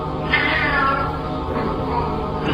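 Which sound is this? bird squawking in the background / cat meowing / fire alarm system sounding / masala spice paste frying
cat meowing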